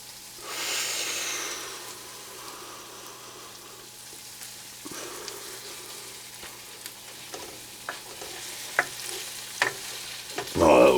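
Scallops heat through in cream in a hot pan, with a soft steady sizzle and bubbling, a louder hiss near the start, and a few light clinks and stirring sounds toward the end.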